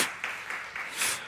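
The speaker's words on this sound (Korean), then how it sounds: "교회를 박수 한번 칠까요?" A church congregation clapping at a Sunday service marking the church's 19th anniversary: a short, fairly close burst of applause with a few distinct claps standing out.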